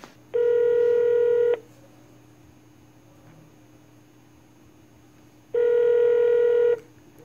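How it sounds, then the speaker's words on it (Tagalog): A telephone call goes out, and two long, loud electronic tones sound about four seconds apart with a quiet hum in between, like ringing on the line. "Tawagan natin si Dads."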